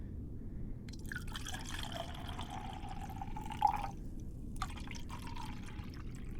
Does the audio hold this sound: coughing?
no